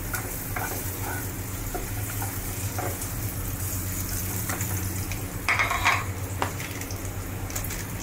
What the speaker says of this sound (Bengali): তেলটা একটু গরম হলে আমি এর ভেতর দেবো হচ্ছে চপড রসুন